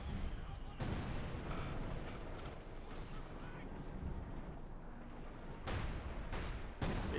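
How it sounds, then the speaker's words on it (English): Dense battlefield gunfire in a Company of Heroes 2 match, with paratroopers, a .50 cal and a Sturmgeschütz III Ausf. E assault gun in action, sounding as continuous rattling shots and heavier bursts under a voice talking throughout. "Bit of shooting there, Major moving ahead."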